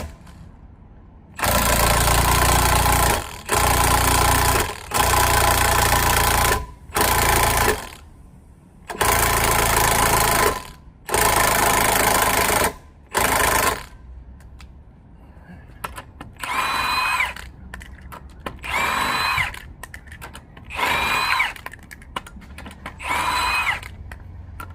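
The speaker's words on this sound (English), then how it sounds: "use a drill and a 21mm socket" A power drill with a 21mm socket spins off lug nuts on a Lincoln Nautilus, loud whirring bursts of several seconds each separated by short pauses, followed by quieter, shorter pulsing runs.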